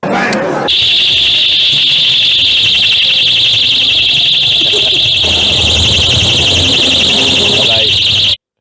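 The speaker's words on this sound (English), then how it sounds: "they tied a personal safety alarm to the bottom of these helium balloons and let it off" A personal safety alarm tied to helium balloons shrieks in a piercing, continuous, warbling tone. It is very loud and close, runs for about eight seconds, then cuts off abruptly. Crowd noise sits faintly underneath.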